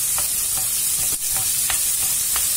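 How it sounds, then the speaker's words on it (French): Bell peppers cooking into a quesadilla filling sizzle steadily in a pan, a close, constant hiss with a few soft stirring clicks and scrapes spaced through it, no voices. "Maintenant, on va rajouter les poivrons. Et on va laisser tout ça cuire tranquillement."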